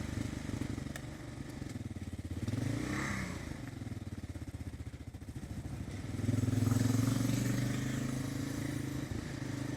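Kawasaki KLR 650 motorcycle in first gear rolling downhill, a steady low thumping engine note with engine braking that swells and eases, heard close with wind rush.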